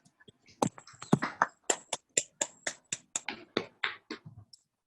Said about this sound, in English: our new conveners, Mayur, Bikram and Manas, a big round of applause.